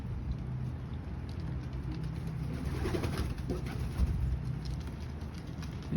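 Racing pigeons cooing inside their coop at feeding time, soft low burbling coos repeating over a steady rustling, roomy background hum, with no talk.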